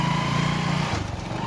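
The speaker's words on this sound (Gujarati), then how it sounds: "બાઇકમાં મહેન્દ્રનું બાઇક છે અને અમે નીકળ્યા છે કોલેજ" Mahendra's motorcycle engine running steadily and loud on a ride to college, a continuous low drone that holds for about a second before dipping slightly in pitch as the rider eases off.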